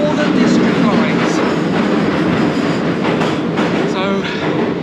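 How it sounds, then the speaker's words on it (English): A London Underground train arriving at Victoria station rumbles and clatters loudly and continuously, wheels rattling over the rails with faint squeals, close and enveloping. "Now it's time to change trains because we're arriving at Victoria."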